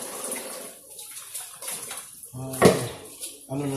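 Water runs from a tap in a Filipino home setting, a steady splashing wash that rises and falls over a few seconds, with voices and a louder burst partway through.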